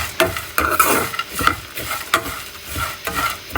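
A spoon stirs ingredients roasting in a little ghee over a low flame, giving repeated scraping strokes in an uneven rhythm over a soft, steady sizzle, close and moderately loud with no talking.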